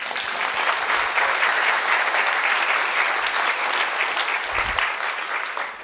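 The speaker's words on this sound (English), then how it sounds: "it's so beautiful that I really think we have to clap." A class applauds a dish made in a kitchen lab, a loud, dense round of clapping that holds steady for several seconds before easing slightly.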